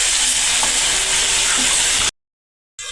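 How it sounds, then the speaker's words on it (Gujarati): Garlic with asafoetida frying and being stirred in a pan, a steady broadband sizzle for about two seconds, then a short silence before the sizzle returns briefly. "લસણને થોડી વાર આવી રીતે સળવા દે"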